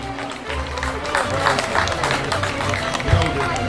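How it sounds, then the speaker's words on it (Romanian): Audience applause at a village gathering in Tureni, Romania, as local officials are introduced: a steady wash of clapping from a nearby crowd, with murmured voices underneath throughout. "Aplauze."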